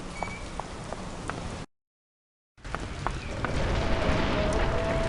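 Steady rain hisses throughout, with scattered drips and a brief dead-silent gap partway through; the downpour grows slightly heavier toward the end.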